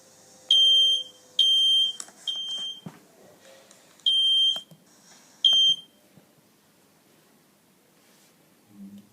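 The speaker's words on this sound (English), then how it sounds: "you can hear the fire alarm sounds ringing in your home on your phone" A smoke alarm sounds in a series of sharp, high beeps, repeated several times with short gaps, fairly close and clear over a quiet background.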